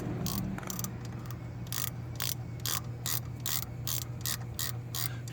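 A ratchet wrench clicks rapidly in repeated bursts while snugging down transmission bolts on a 2013-2016 Ford Escape 2.0L AWD with a 6F35 gearbox, close and rhythmic over a low steady hum.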